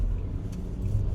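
Steady low road rumble and engine drone from inside a car driving on the road behind a truck, continuous and fairly loud, with no talking.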